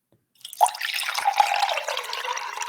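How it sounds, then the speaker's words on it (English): A water drip sample from a music producer's kitchen sound pack, with a sharp plink followed by steady trickling and bubbling water, a few small drips ringing through, close and with no voices. "let me see if I have any water sounds uh in my pack here"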